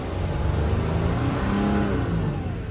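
A 2007 Freightliner Sprinter van with an oil cooler leak and many faults revs its engine in a steady, sustained mid-pitched roar, close and loud, with no one speaking.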